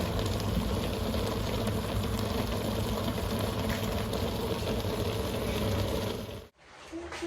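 Steady bubbling of a pot of tomatoes on the boil, a dense continuous rumble and fizz that cuts off abruptly near the end.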